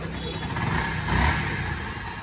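A Honda CBR 250R motorcycle engine idles steadily after a timing chain, tensioner and clutch service, a continuous low rumble swelling slightly in the middle, heard up close.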